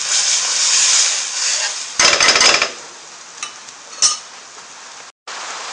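Spice paste for saag gosht frying in oil in a pan, a steady bright sizzle with a sharp burst of clattering stirring partway through, a few lighter knocks afterward, and one short dropout near the end.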